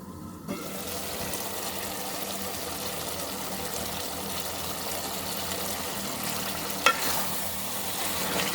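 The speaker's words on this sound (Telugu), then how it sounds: "మీడియం ఫ్లేమ్లో పెట్టి ఒక 5 మినిట్స్ ఉడికించుకుందాం." Chicken curry cooks in a pan over a medium flame with a continuous bubbling sizzle, interrupted by a single sharp clink partway through.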